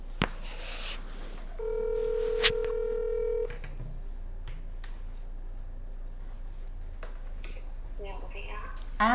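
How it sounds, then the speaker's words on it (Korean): Telephone keypad tones beep during dialing for a radio-style matchmaking call, followed by a steady ringback tone and a faint connection click, with quiet line hiss afterward. "다음 사연은 전화로 한번 연결해 보도록 할게요"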